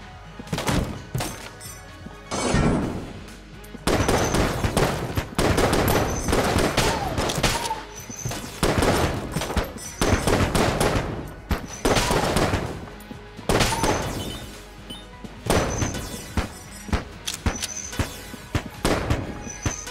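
Rapid bursts of gunfire from the twin-stick shooter game Enter the Gungeon, loud crackling volleys in dense repeated clusters with brief gaps between them, mixed with game effects.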